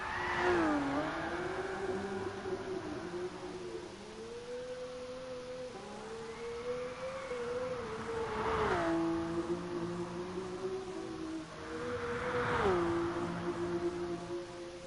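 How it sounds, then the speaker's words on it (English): Engine of a car drifting on the Nordschleife in GT Sport, revving up and down in long sweeps with bursts of tire squeal at each slide, steady and up close, no talking. "Much better drifting through there now."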